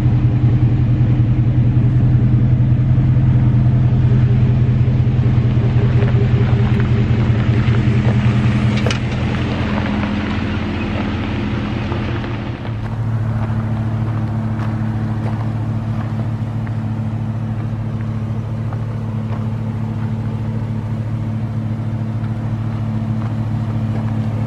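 A lifted two-wheel-drive Chevrolet Silverado truck on a test drive gives a loud, steady engine rumble with a droning low hum, easing slightly in level partway through, without any speech.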